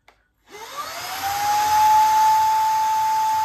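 A Shark cordless vacuum cleaner switching on after a brief silence, its motor whine rising in pitch and settling into a steady, fairly loud whirring hum up close.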